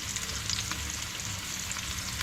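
Onions fry in a pot as the base for a Trinidadian-style chicken curry, giving a steady, close sizzle and crackle throughout with no talking.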